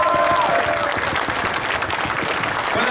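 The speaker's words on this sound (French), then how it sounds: "on va encore une fois tous les applaudir" An audience applauds the Belgian team at a two-day event, dense sustained clapping filling the room with some crowd noise and a faint voice beneath.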